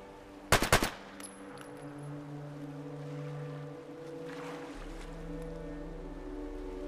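A short, loud burst of rapid gunfire in the Fallout 4 video game, a few quick shots in under half a second, followed by a low steady engine-like hum and ambient noise.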